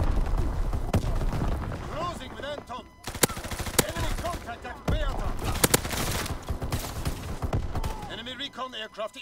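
Video game battle with artillery fire: repeated heavy booms and sharp blasts break through dense, rattling gunfire, loud and close at times, while voices talk over the din.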